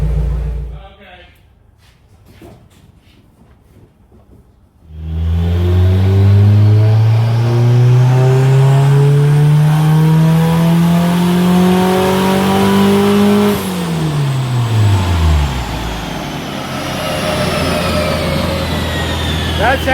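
Turbocharged 1992 Honda Civic Si hatch with a B18C1 engine revving hard on a dyno: a loud, sustained rising engine roar that peaks, then drops away sharply, after quieter moments of faint talk.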